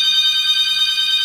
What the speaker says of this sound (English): So the phone just rang